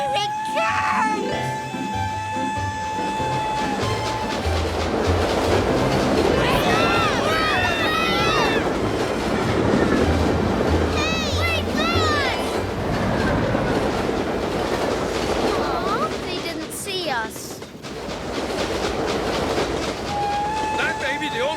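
A train rumbles past close by with rhythmic clickety-clack of rail cars and faint wheel squeal, steady and loud throughout, with children's voices talking over it.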